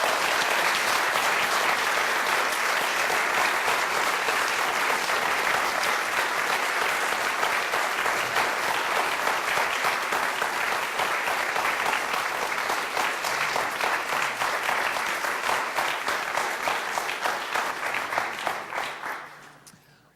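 A theater audience gives a sustained round of applause for the law players after a trial re-enactment of the Holmes Hunter case, steady dense clapping filling the room for about twenty seconds before fading out at the end.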